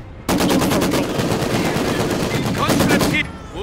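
A machine gun in Company of Heroes 2 hammers out a sustained, rapid burst of loud, close shots that runs for about three seconds before cutting off.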